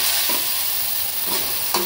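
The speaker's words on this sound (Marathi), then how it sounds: "तर आलं लसणाची पेस्ट पण यामध्ये घालून घेते।" Onions frying with ginger garlic paste in a pan for chicken biryani, a steady close sizzle with a few soft stirring scrapes around the start and end.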